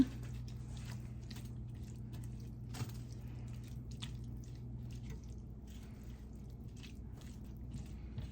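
Cooked steak is stirred in a pan with barbecue sauce and two tablespoons of tap water, making soft, quiet wet squishes and small clicks over a faint steady hum.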